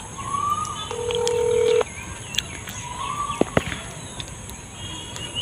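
A phone call is being placed, with a steady dial tone and then a few short beeps amid faint outdoor background noise by a riverbank.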